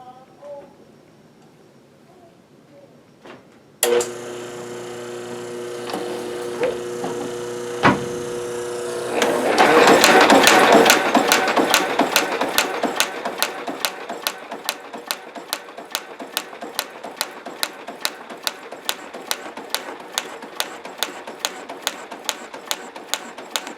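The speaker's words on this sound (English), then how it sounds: "So this is the very first cut." An Atlas 7B metal shaper starts up with a sharp clunk and hum, then takes its first cut, settling into a steady, loud, rhythmic clacking of repeated strokes, close up and without talk.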